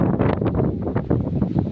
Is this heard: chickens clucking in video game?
no